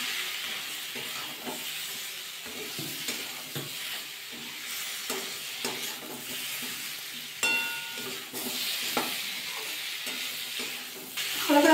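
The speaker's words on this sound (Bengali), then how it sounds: "এবার ভালো করে মশলাটা কষিয়ে নিতে হবে।" A spice masala with green chillies, turmeric and salt is stirred and fried in a pan for a Bengali fish-head pui shak dish, giving a steady close sizzle broken by repeated scraping strokes of the spoon.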